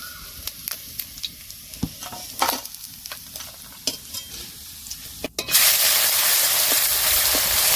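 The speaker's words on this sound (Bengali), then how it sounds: "ভাজা ভাজা তুলে নিচ্ছি" Small fish frying in oil make a bubbling sizzle with repeated clicks and scrapes as pieces are lifted out, then a loud, steady hiss of frying fills the rest, close up and without speech.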